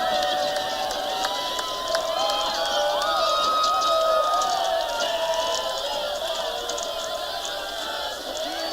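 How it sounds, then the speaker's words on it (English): A big crowd roars steadily after a goal at a women's college soccer match between Western Washington and MSU Billings, a sustained cheering wash that slowly eases off. "Big crowd on hand, and they love to see it"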